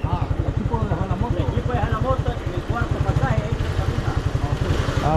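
A motorcycle idles close by with a steady, rapid low putter throughout, while a voice talks over it.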